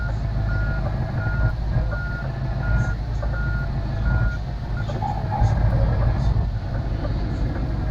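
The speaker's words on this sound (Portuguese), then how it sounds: "Quero ver eu manobrar esse caminhão aqui" A DAF XF V8 truck reversing in Truckers of Europe 3 sounds a steady string of evenly spaced reversing beeps over a loud low engine rumble.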